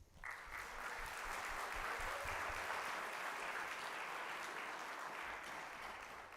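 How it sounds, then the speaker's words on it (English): Steady, full applause from a concert audience, honoring parents at a junior high band fall concert, sustained evenly and moderately distant throughout. "So a huge round of applause"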